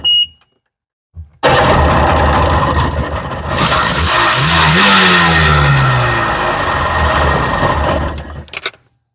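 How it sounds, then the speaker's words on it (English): A 2003 Sea-Doo GTI jet ski with its 717cc engine cranks briefly, then catches and runs loud and close, revving up and settling into a droning idle for several seconds before cutting off abruptly. "So we're gonna start it up, make sure it runs."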